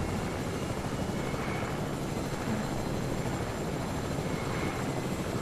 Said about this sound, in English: I'm gonna go take my chopper.